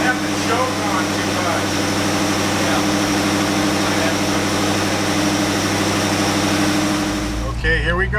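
A car engine idles with the choke on, a loud steady rumble close by that drops into a lower roar and shifts near the end.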